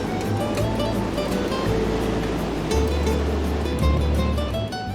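Winter waves break and wash continuously along the East Sea shore at a small fishing village in Yeongdeok, a loud, steady roar of surf close by with a low engine-like hum running beneath.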